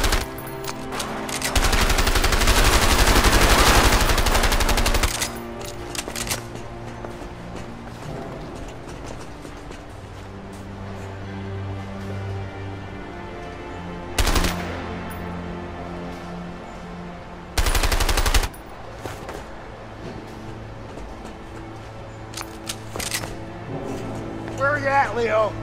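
In the video game A Way Out, gunfire comes in a long, dense burst near the start, followed later by a few sharp isolated shots amid mechanical clatter, hoofbeat-like clopping and game voices.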